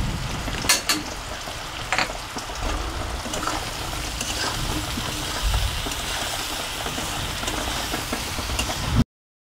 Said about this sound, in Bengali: একটু নেড়ে দিয়ে দেবো আমি নুন হলুদ কাঁচা লঙ্কা